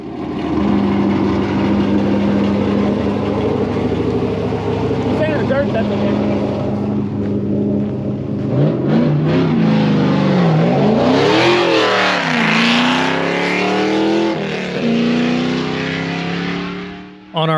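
A race car accelerating hard on a closed Texas highway during a practice run, its engine rising and falling in loud revving sweeps over a steady drone, with people talking through much of it.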